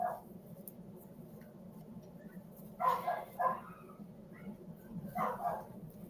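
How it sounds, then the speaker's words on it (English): A dog barks indoors at night, a few short barks in two separate clusters set apart by a few seconds, moderately loud over a low steady hum. "enough for the dog to be upset and bark"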